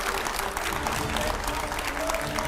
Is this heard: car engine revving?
no